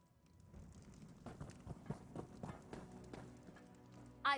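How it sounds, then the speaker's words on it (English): In a fantasy video game, a fast horse gallops in quick, rhythmic hoofbeats at moderate volume, with a brief sharp sound at the very end. "Whoever Andios is has a really fast horse."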